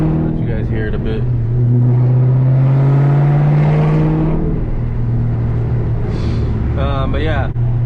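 A 2007 Ford GT500 fitted with a new Steeda intake cone filter, its engine revving up into a loud rising howl and then dropping back, with someone talking over it at times.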